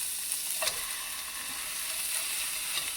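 A Thai hoi tod pancake fries in a hot pan with a steady, even hiss of oil. A few faint taps from a utensil sound over the sizzle, and nobody speaks.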